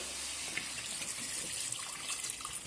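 Steady rushing water pours continuously into a cooking pot of ginger-garlic paste for chicken haleem, a broad hiss with small splashy fluctuations and no talking.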